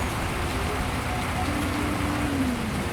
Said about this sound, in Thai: ฝนตกแรงชิบหายเลยนะครับ